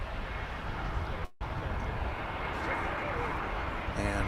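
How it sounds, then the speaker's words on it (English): American Airlines Airbus A321 arriving at a DFW runway, heard as a steady, broad jet rumble with a brief dropout partway through and a rising whine near the end. "It's an A321 flight, American"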